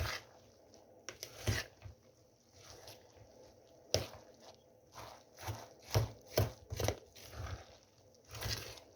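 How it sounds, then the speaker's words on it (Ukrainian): Batter of flour, onion and eggs is stirred in a bowl with a utensil, giving wet, squishy scrapes and soft knocks in an uneven rhythm, close and fairly quiet. "Гарно вимішуємо."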